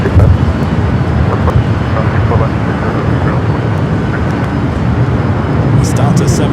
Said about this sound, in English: It's Delta 767 heading to JFK.